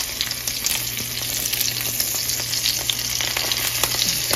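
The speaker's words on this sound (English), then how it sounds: "You want the fattest part of the salmon in the middle of the skillet where most of the heat is" Salmon fillets fry in a huge skillet partly overhanging the stove burner, giving a steady, close crackling sizzle with scattered sharp spits and pops throughout, no voices over it.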